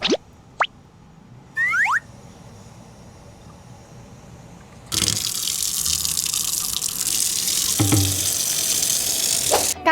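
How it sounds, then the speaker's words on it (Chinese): Tap water runs into a stainless steel kitchen sink at close range, a steady broadband splashing that starts partway through and continues to the end, after a few brief squeaks and clinks in a quiet room. "刚刚大家有没有注意听那个水声？"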